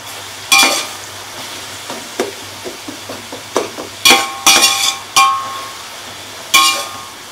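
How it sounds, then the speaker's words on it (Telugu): Onions sizzle and fry in a pan at home while a spoon stirs them, with sharp clinks and scrapes against the metal at irregular intervals over a steady frying hiss. "ఆనియన్స్ ఫ్రై అయ్యే లోపు"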